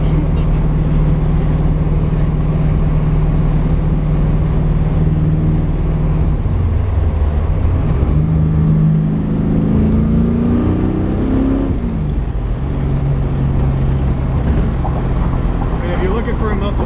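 A 1969 Camaro X11 with a stroker motor rumbles loudly from inside the cabin while driving, a deep engine drone that rises and falls as it accelerates, with a voice talking over it at times.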